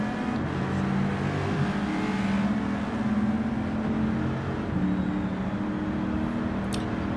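A race car engine drones steadily at moderate distance as the race leader heads into the pits for a tyre change at Watkins Glen, its pitch wavering slightly without any commentary heard.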